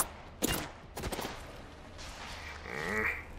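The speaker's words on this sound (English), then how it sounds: "Bomb boys are shooting at me." Enemy gunfire in a video game: two sharp bursts of shots near the start, then a quieter stretch and a whooshing, swelling effect toward the end, heard alone without talk.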